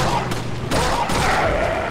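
Pistol gunshots from the Resident Evil 4 HD Project game: a few sharp, loud reports in quick succession over a brief stretch of in-game sound.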